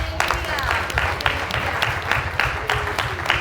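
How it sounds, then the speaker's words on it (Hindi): A church congregation clapping together in a steady rhythmic beat, roughly three claps per second, close and lively, with voices mixed in under the applause. "तो प्रभु को हम तालियां बजाएं।"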